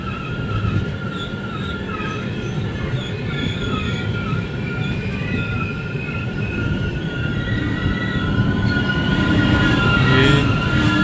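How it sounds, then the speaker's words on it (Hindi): A MEMU train passes toward Manikpur at Bharatkoop railway station, with a continuous loud rumble of rolling wheels and squealing metallic tones that build slightly toward the end. "ये मेमू ट्रेन है मानिकपुर की तरफ जो जा रही है"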